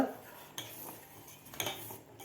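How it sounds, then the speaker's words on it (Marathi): A spoon stirs an herbal decoction of water and grated ginger in a pot, giving faint metallic clinks against the vessel at about two points amid quiet swirling. "आता याला एकदा आपल्याला चमच्यानं ढवळून घ्यायचं आहे"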